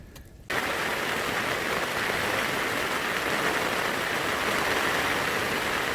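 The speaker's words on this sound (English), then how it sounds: "As you can hear, we're getting a pretty solid shower. This is the biggest rain we've had so far." A heavy rain shower falls at night on a survival campsite, a sudden loud, dense, steady hiss of rain that starts after a brief quieter moment and continues unbroken, with no voices.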